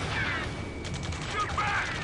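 Gunfire rattles through a firefight in the video game Ace Combat 7, dense bursts and shots over a continuous noisy battle backdrop, with shouted radio voices mixed in.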